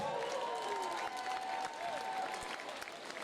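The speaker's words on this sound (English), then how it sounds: "give these ladies a massive round of applause" A crowd at a women's combat bout applauds, a steady layer of clapping and murmur heard from the hall, with a faint tonal sound drifting over it.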